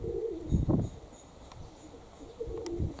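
Pigeons coo in low, soft bursts near a dovecote, two or three throaty phrases rising over steady outdoor wind noise.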